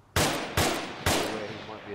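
Three loud close shots ring out one after another during airsoft squad training, each a sharp crack with a short decaying tail, evenly spaced about half a second apart.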